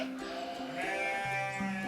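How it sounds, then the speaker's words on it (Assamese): A sheep bleats in a steady, wavering call that fills the whole short moment, loud and close with no talking over it. "ভেড়া"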